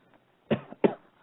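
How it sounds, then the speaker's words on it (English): A person coughs twice in quick succession, close and fairly loud, against an otherwise quiet background. "And I coughed up"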